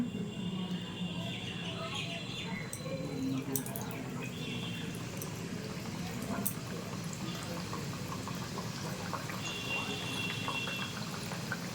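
Layered flour dough goes into lightly heated refined oil in a kadai, bubbling and crackling in a steady close fry, with a voice speaking briefly over it.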